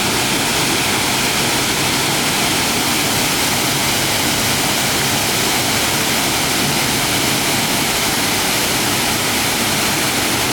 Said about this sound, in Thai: สวยๆน้ำตกงามครับ